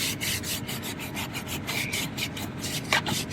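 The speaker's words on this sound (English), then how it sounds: "let's go ahead and give it a nice rub" Steady close-up scrubbing of a car's interior upholstery with the brush of a Bissell SpotClean Pro, a continuous rhythmic bristly rubbing with repeated strokes and no talking.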